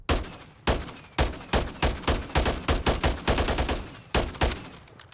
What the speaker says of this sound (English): it's got a custom sound when you shoot. It almost sounds like a laser gun